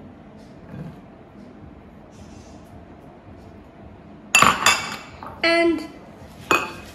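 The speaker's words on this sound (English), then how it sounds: "you really need to mix it through really well, so the ingredients are even" Spoon and ingredients clinking and scraping in a bowl while White Christmas slice mixture is stirred, a few short bursts of clatter after a quiet stretch, close by, with a voice speaking briefly.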